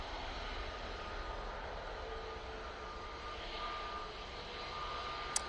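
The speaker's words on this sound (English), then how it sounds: "That Ryanair is off to Oslo Torf." Ryanair jet airliner departing Manchester Airport for Oslo, a faint, steady distant engine roar that holds evenly throughout, with no voices.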